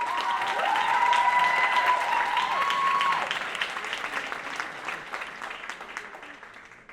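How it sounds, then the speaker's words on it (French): Dense audience applause at a cégep local talent-show final, greeting a performer. It is loud and sustained for about three seconds, with a few whistle-like tones, then thins and fades. "Une bonne main d'applaudissements pour Camille Desrosiers."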